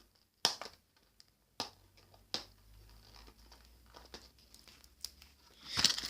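A taped mini sticker coordination book (Fairyroo) is peeled apart by hand, producing a few sharp, close tearing and crinkling bursts separated by quieter rustling, with a longer crackling peel at the end.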